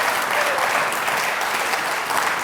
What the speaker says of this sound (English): So another round of applause for Catherine,